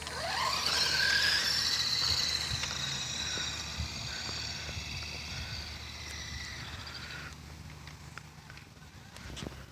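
A Shadow Striker RC car on a driving test gives a high, whining electric motor squeal that rises and holds steady, with scrabbling wheel and surface noise underneath, fairly close and with no talk.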